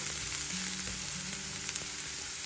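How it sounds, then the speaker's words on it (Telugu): Curry leaves fry in hot oil with a steady, dense crackling sizzle and a few faint stirring taps. It is close and even throughout. "దీనిలో కరివేపాకు వేసుకుందాం. వీటిని ఇప్పుడు వేయించుకోవాలి."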